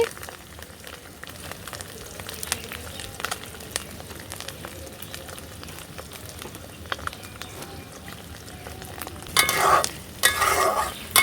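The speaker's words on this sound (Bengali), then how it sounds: "আমার ডিমগুলো কিন্তু প্রায় ভাজা শেষ" Boiled quail eggs fry and sizzle in hot oil in a village kitchen, with a steady crackle throughout. A spoon stirs and scrapes the pan, and near the end a louder, brighter burst of frying and scraping rises.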